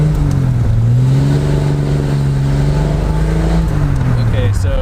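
A 1974 Triumph TR6 engine revs up as the car accelerates, a loud, steady engine drone with rising and falling pitch, close and continuous throughout, with a brief dip in pitch near the start.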